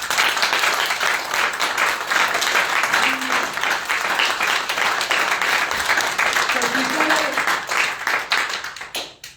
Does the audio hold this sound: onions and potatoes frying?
no